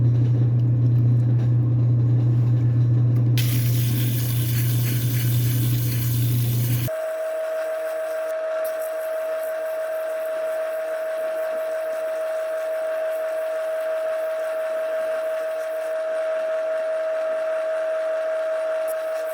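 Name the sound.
faceting lap wheel grinding a gemstone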